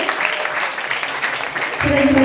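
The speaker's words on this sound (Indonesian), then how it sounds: "Tepuk tangan dong buat semuanya" Students at SMKN 14 Jakarta, a Jakarta vocational high school, applaud in a dense, noisy burst for about two seconds before a voice begins speaking over the fading clapping.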